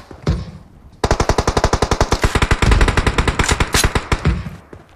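Rapid automatic gunfire in PUBG Mobile, loud and close: a short burst, a brief pause, then a long sustained stream of evenly spaced shots lasting several seconds.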